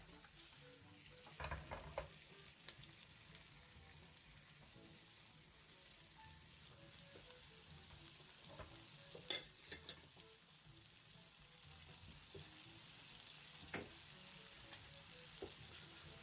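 A ham steak sizzles steadily in butter in a hot pan with soft crackles and occasional clinks of a utensil, a continuous quiet frying hiss throughout.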